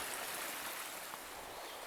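Rushing stream at a hiking trail crossing where a bridge has washed out, a steady broadband wash of flowing water close by, running unbroken and alone for the whole stretch.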